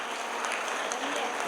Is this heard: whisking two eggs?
no